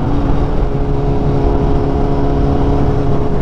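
A car engine drones loud and close as it accelerates through fourth and fifth gear, a smooth continuous hum with a steady tone and no voices.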